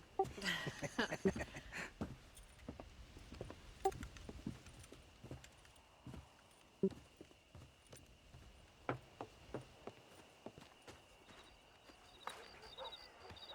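Horse hooves clip-clop on the ground in the game Red Dead Redemption 2, during a horse-breaking scene on a ranch. The steps are moderately close and uneven, with scattered knocks and faint ambience.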